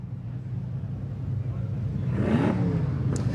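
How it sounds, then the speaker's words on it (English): Supercar engines fire up at a track: a low, steady rumble of idling cars that swells into a rising rev, heard from a distance, with talk partly over it. "the cars are firing up"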